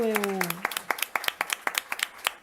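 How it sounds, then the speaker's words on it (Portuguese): Audience applause at the close of an event, a brisk run of separate sharp claps about two per second, fairly close, following a brief sung or spoken tone at the start. "I was clapping for you, I think."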